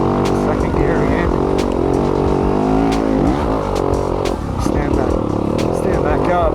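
A 2020 Yamaha YZ250FX dirt bike engine runs steadily in second gear on a mountain single-track trail, loud and close throughout, with throttle swells and dips and a rider's voice over it.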